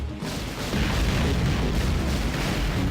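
Basic homing missiles firing in Rengoku 2, a dense, loud rumbling blast of launches and booms that swells after a brief lead-in and holds steady throughout, with no voices.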